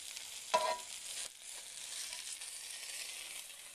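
A Monte Cristo sandwich of French toast sears in a Copper Chef pan, giving a steady broad sizzle with a brief louder crackle near the start before it settles to an even hiss, with no talking.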